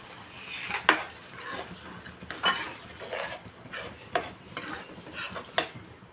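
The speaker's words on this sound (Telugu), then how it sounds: "ఇందులో కొంచెం నీళ్ళు వేస్తాను" Water goes into a pan of frying onions for a mango fish curry, producing a faint hiss and sizzle under repeated scraping stirs and light utensil knocks against the pan.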